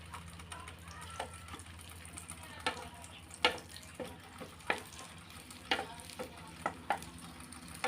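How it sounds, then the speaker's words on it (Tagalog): Hotdogs fry in oil in a pan, a soft steady sizzle punctuated by irregular sharp pops and spatters, fairly close and alone. "Papasalang ko nga pala, maluluto na kaagad ang ating hotdog."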